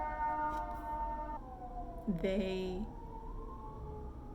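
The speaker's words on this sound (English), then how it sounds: "Sorry about the sirens in the background." A siren wails in the background with long wavering tones, fairly distant, while a person talks over it.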